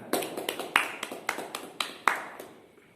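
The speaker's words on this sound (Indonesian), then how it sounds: "Beri tepuk tangan." A small classroom group claps in a short, uneven burst, sharp hand claps close by that thin out and fade within a few seconds.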